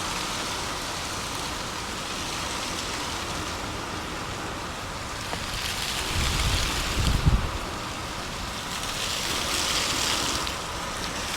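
Water at the Emirates Palace entrance in Abu Dhabi flows in a continuous broad rushing wash, steady and fairly loud, with a low rumbling surge midway and no voices.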